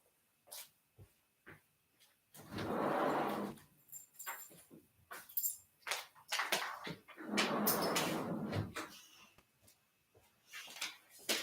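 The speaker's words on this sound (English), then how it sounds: "Got to let my dog in. She is outside at the moment." A pet dog outdoors whimpering and whining to be let into the house, with two longer bursts of whining among shorter yips and whimpers at moderate distance, with no talk over it.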